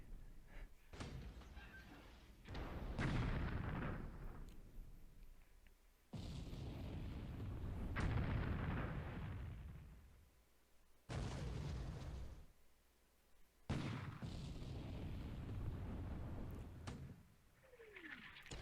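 Gunfire and explosions crash out in a naval war strategy game set in the Bay of Bengal in 1942, with a series of sharp booming impacts, each followed by a rolling, fading rumble, spaced several seconds apart.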